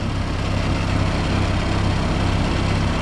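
An Allis WD45 tractor engine runs steadily during a ride, a loud, low, rhythmic chugging drone that holds constant throughout with no talk.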